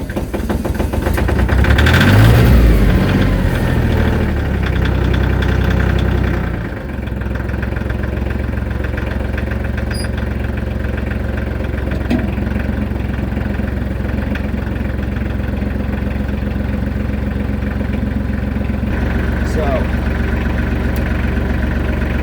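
A tractor engine with a box blade attached rumbles loudly and steadily at idle close by, with a rougher surge in the first few seconds before it settles into an even drone, with no talking.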